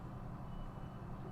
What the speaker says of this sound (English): I do apologize for the snowplow beeping if you can hear it